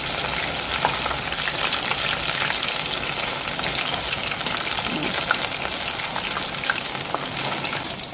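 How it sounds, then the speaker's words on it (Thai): Batter-coated enoki mushrooms deep fry in hot oil, giving a loud, dense, continuous crackling sizzle close up that holds steady throughout, with no talking. "เพราะเวลาทอดแล้วก็แกว่งแกว่งใบให้มันแตกแตกจากกันนะคะ"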